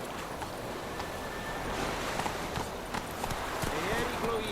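Roach, a horse in the video game The Witcher 3, gallops with rhythmic hoof clip-clops over wind and ambient noise, partly under talk.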